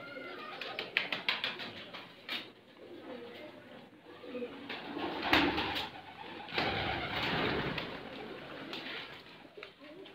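Pigeons in a loft full of chicks and eggs coo in soft, repeated, overlapping calls, with wing flutters and rustling close by while someone talks over them.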